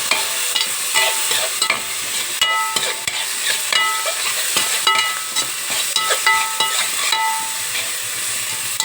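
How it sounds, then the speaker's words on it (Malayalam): Stir-frying in a pan until lightly browned: steady sizzling hiss with repeated scraping and clinking of a spatula against the pan, close and loud throughout with no talking. "ചെറുതായി ബ്രൗൺ കളർ വരുന്ന വരെ നമുക്ക് ഇളക്കിക്കൊണ്ട് വയ്ക്കാം."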